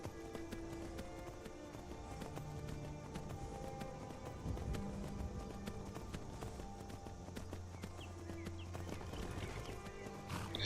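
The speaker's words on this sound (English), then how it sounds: "And it seems that there's someone's horse here." Quick hoof clip-clops from a horse in Skyrim, layered over steady background music at moderate volume, with a few sharper taps near the end.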